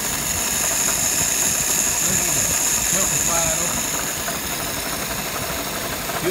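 A car engine idles steadily after a warm restart in an unheated garage, settling just under 650 rpm; the close, continuous rumble and hum hold evenly throughout with no voices over it.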